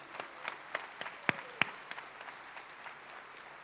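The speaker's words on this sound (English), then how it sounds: "could I get a round of applause for our Seneca Gaming Corporation team members?" Audience applause for casino team members at a Seneca Gaming Corporation anniversary celebration, heard as a thin, distant patter of scattered claps with a few sharper nearby claps standing out.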